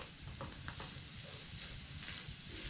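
Garlic and onion sauté in a hot pan, a dense continuous sizzle with occasional stirring scrapes, close and without talk.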